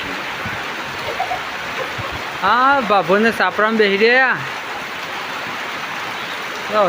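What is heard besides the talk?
heavy rain pouring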